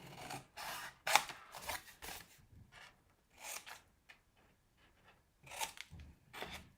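Scissors snip through paper while cutting a box template for card crafting, a quiet series of short, crisp cuts in irregular bursts, close by with no talk.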